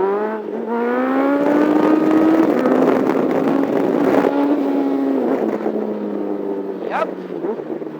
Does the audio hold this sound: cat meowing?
no